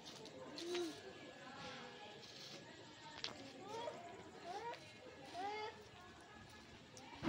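Kept pigeons at a home coo softly in repeated rising-and-falling calls, several birds close by, while people talk quietly in the background.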